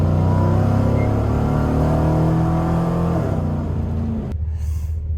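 Car engine rumbling steadily as it drives along a road, loud and close throughout, with the engine note dropping and the noise cutting down sharply near the end.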